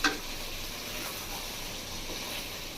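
Mutton masala sizzles steadily in a hot pan as it is stirred, a close, even hiss with a brief scrape at the start.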